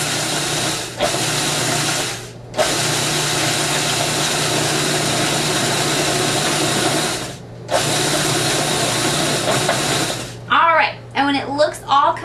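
Blender pulsing a buttery pretzel dessert mixture in bursts: two long loud grinding runs separated by short pauses, then a brief stop-start burst, with a voice speaking over the end.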